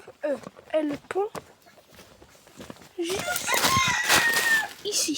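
Rooster crowing with hens clucking in a backyard poultry pen, moderately close, after a stretch of someone talking over the birds; crowing and clucking fill the second half, overlapping and busy.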